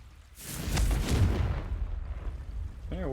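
Revelio spell cast in Hogwarts Legacy on PC, heard as a loud, rumbling magical whoosh that swells for about a second, then fades into a softer tail, ending with a brief rising shimmer.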